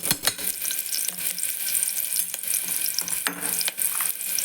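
Vegetables frying in ghee in a pan, a steady wet sizzle with crackles and occasional clinks of a stirring spoon, close and continuous with no talking.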